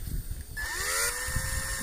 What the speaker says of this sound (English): Go to put a bit of pressure, line the drill bit up.